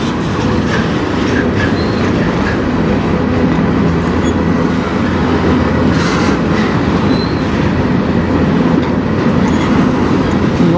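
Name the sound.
CN train passing in Sarnia, Ontario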